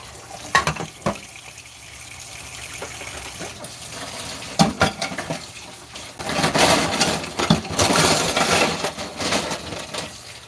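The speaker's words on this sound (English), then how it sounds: "Just gonna soak these plates." Water runs from a sink tap over dirty plates left to soak, splashing and gushing unevenly, with clatters of dishes and a louder rush of water in the second half.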